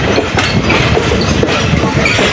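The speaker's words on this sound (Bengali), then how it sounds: "রাজশাহী অভিমুখী তিতুমির এক্সপ্রেস পার্বতীপুর ছেড়ে গেল" The Titumir Express rolls steadily along the rails leaving Parbatipur station, with a continuous loud rumble and faint rhythmic clacks, close by and without voices.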